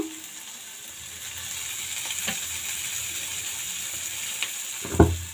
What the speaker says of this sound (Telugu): మనకి క్యారెట్ కూడా బాగా వేగాలి చూడండి అన్నీ బాగా వేగిపోయాయి